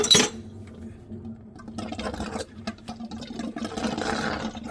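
A metal compression angle stop valve on a plumbing supply line being worked off by hand, giving faint metallic clinks and scraping handling noise, close and intermittent, no talk.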